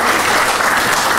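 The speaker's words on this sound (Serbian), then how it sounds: "ajdemo još jedan aplauz" Dense, steady applause from an audience at a poetry book launch, loud and continuous throughout with no pauses or voices standing out.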